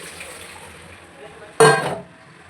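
Whey water is drained off paneer made from milk powder for rasmalai, a sudden splashing pour that starts after a quiet stretch, lasts about half a second loudly, then trails off.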